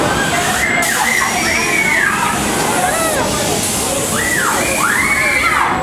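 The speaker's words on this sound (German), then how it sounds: "Jeder spritzt Wasser." Water sprays and sloshes constantly around the Alpen Hotel ride by Rasch at the 2013 Bremer Freimarkt fair, a loud rushing wash with rising, swooping voices cutting through it.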